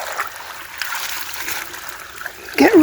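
Floodwater trickles and splashes steadily through a trench dug beside an old house, fairly faint and continuous, with a sharper louder splash near the end.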